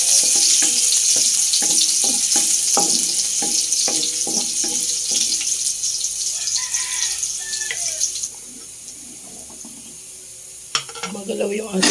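Garlic sizzling in hot cooking oil in a wok for ginisang sayote, with a steady hiss and a series of scraping, clattering stirs before the frying quiets down, followed by a sharp clank near the end.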